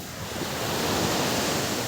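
Steady roar of sea waves washing onto a beach in the morning, a broad continuous surf wash swelling slightly louder, with some wind noise on the microphone and no voices.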